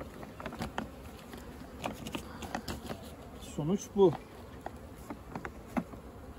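Honeybees buzz around a hive made from a colony merged before last winter, a close, steady drone with individual bees passing near, while someone speaks briefly.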